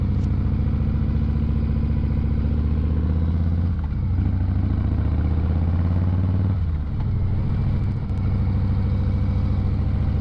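A 2025 Harley-Davidson Breakout's engine rumbles steadily and loud throughout a ride, with low throbbing pulses and brief dips as the throttle eases around the fourth and seventh seconds.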